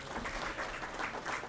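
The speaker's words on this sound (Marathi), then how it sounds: "आपण पुन्हा एकदा यांचं टाळ्या वाजवून स्वागत करूयात" An audience at a book launch ceremony claps to welcome guests, a soft, fairly distant patter of applause lasting a moment without speech over it.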